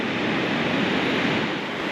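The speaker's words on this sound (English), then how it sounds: "I just checked the tide charts to see if the waves were coming in or going out, and they're going out" Ocean surf on an outgoing tide: a steady, broad rushing wash of waves without distinct breaks, fairly loud and continuous, with some wind noise on the microphone and no voices.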